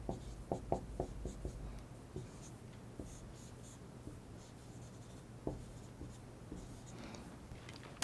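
Marker or chalk writing on a board during an organic chemistry lecture, a series of short scratchy strokes and taps in quick bursts, fairly faint in a quiet room, with a bit of speech between them.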